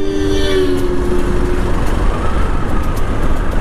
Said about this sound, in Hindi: फाइनली ये भवाली का ट्रैफिक भी क्रॉस हुआ